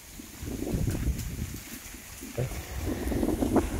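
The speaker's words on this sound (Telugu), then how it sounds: "ఇక్కడి నుంచి అయితే ఫుల్ గాలి వాన మొత్తం." Strong wind buffets the microphone at a butterfly park playground, a continuous rough roar that surges louder toward the end.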